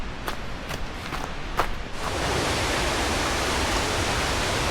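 Steady broadband rush of Triple Falls in Dupont Forest, North Carolina, heard from a distance along a forest trail, with a few crunching footsteps early on before the water noise swells and holds evenly.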